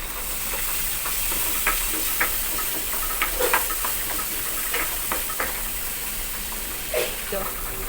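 White onion and garlic sautéing in a pan, a constant soft sizzle and hiss with scattered scrapes and clicks of stirring, while a person talks over it.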